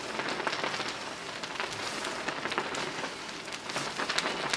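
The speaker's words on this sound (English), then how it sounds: "at this point you can hear the cracking of the leaves" Fresh tea leaves from a mid-spring harvest in Jingmai crackle while being pan-roasted by hand, a dense, steady stream of fine pops and ticks that continues without a break and with no voices.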